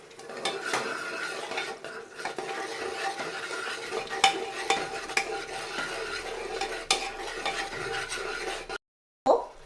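Whole spices and masala being stirred and sautéed in a hot pan for vegetable biryani, with a steady close sizzle, repeated scraping strokes of a spoon against the pan and a few sharp metallic clinks, then a brief silence near the end.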